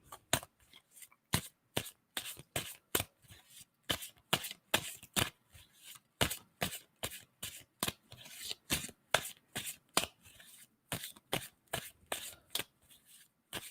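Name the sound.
shuffling tarot cards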